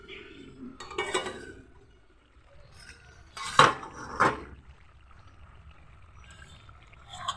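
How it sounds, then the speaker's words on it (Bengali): A lid being lifted off a cooking pot of simmering ash gourd for a vegetable dish. Two sharp metallic clinks sound a moment apart over a quiet background, along with a few softer utensil taps. "কিছুক্ষণ পর ঢাকা তুলে নিচ্ছি।"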